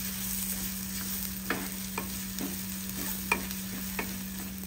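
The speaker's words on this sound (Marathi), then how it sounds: "आणि आता आपण हे सर्व मसाले चांगले परतून घेऊया।" Spices sautéing in a pan for a tondli dish, a soft steady sizzle broken by several distinct scraping stir strokes at a slow irregular rhythm, close but fairly quiet, with a constant low hum underneath.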